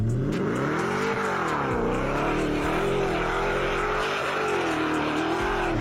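A Toyota Tundra with its automatic gearbox in drive powers uphill on snow at full throttle, the engine holding a loud, continuous roar that rises and dips as it claws for grip, close and unbroken.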